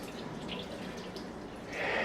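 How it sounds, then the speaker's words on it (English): Water from a tap rinsing off a neti pot, a soft steady splash and trickle that swells louder near the end, close by and without talk. "Then you just rinse it off."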